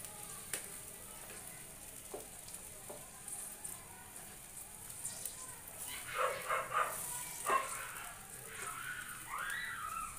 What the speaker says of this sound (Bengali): এবার যেটা করব, গরম জলটা এখানে দিয়ে দেব।